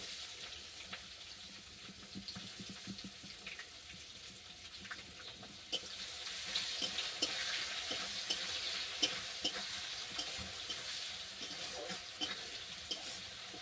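Chopped onion and bay leaf fry in hot oil with a soft, steady sizzle. The hiss swells partway through, and faint stirring and clinking sound nearby.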